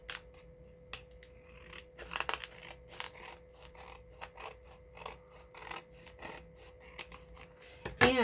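Scissors trim acetate on a junk journal page in a run of quiet, separate snips and crisp cuts with soft rustling between them. The sound is close and faint, with no talk.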